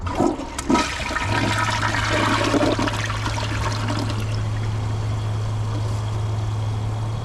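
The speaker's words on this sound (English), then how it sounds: "let's see how it flushes. Press and release." A 2025 Kohler Highline Arc toilet on a tall tank flushing, a loud close rush of water that settles into a steady refill hiss and trickle with a low hum underneath.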